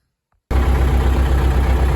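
A YuMZ-6 tractor engine starts abruptly after a moment of silence and settles into a loud, steady, low idle.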